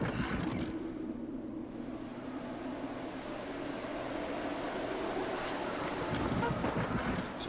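Wind in Rise of the Tomb Raider blowing as a continuous broad rushing roar, steady and fairly loud for the whole stretch, with a slight swell near the end and no speech.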